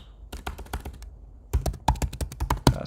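Close, crisp keystrokes on a computer keyboard as a password is entered, a short burst of taps, a brief pause, then a denser flurry of clacks.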